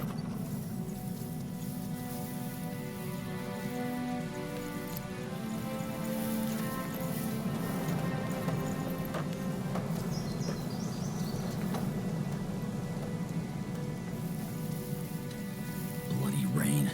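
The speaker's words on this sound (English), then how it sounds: "Bloody rain." Steady rain in the video game Spellforce 3, a continuous hiss of falling drops beneath tonal game music, with a brief burst of louder activity near the end.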